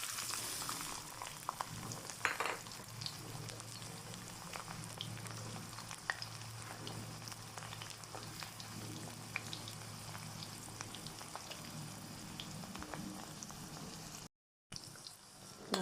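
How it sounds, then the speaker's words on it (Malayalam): Chopped onion, shallots and garlic fry in hot oil for a Kerala spinach thoran, giving a steady, close sizzle with occasional stirring scrapes throughout. "നമുക്ക് ഈ അരിഞ്ഞ് വെച്ചിരിക്കുന്ന ഉള്ളിയും ചെറുള്ളിയും വെളുത്തുള്ളിയും കൂടി ഇട്ട് കൊടുക്കാം."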